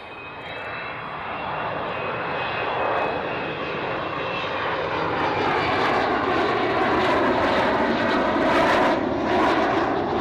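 Jet airliner engines roar overhead in a broad, steady rush that builds gradually and stays loud throughout, with no voices over it.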